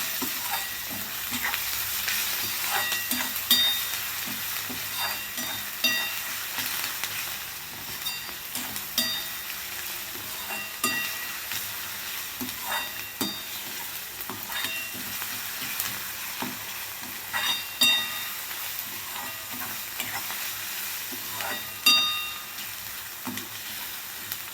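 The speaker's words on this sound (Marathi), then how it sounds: "तर आता इथं बघा कांदा आपला भाजलेला आहे" Salted onions fry in a pan for a masoor lentil dish, making a steady crackling sizzle with repeated scraping and tapping of a spoon stirring throughout.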